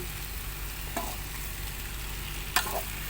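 Pork stir-fried in a pan with dark soy sauce gives a steady, close sizzle throughout, broken by a couple of brief scraping stirs.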